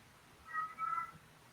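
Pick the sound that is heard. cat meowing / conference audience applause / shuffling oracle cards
cat meowing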